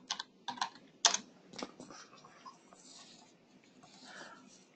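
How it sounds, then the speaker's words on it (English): Typing on a computer keyboard: a few quick bursts of close, crisp key clicks followed by softer, scattered taps, heard alone without talk. "So let's type in forklift safety YouTube."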